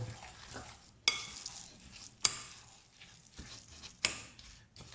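Marshmallows being stirred into a gooey chocolate mixture for rocky road, with a quiet, steady scraping stir broken by three sharp clacks of the spoon against the bowl or pan, and no talking.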